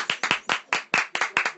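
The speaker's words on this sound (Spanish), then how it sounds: "Aplausos." Hand claps ring out alone in a steady rhythm, about eight sharp, close claps spaced evenly over a moment.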